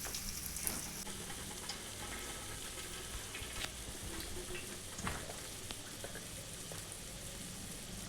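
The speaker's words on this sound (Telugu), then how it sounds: "చూడు, ఉప్పు కారం కట్ చేసుకున్న ఉల్లిగడ్డ ముక్కలు తాలింపులో బాగా మగ్గుతున్నాయి." Onion pieces with salt and chili powder sauté in hot tempering oil, a steady close sizzle and crackle running throughout, with a few louder pops and stirring scrapes.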